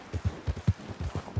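Horse hooves clip-clop at a steady, rhythmic pace in the video game Red Dead Redemption 2, about seven soft, low thuds spread evenly over a moment, faint and alone with no talking.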